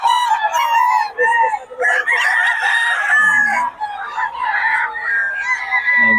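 Lemon sweater gamecock rooster on a farm crowing repeatedly at close range, several loud harmonic crows in quick succession with brief gaps between them.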